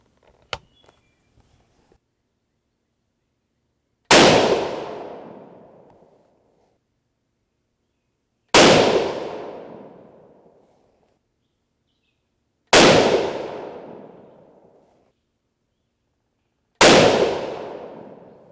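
Four loud, sharp rifle shots from a .243 Win loaded with 85gr Sierra GameKing bullets and IMR 4451 powder, evenly spaced about four seconds apart, each cracking then decaying into a long outdoor echo, after a few faint handling clicks.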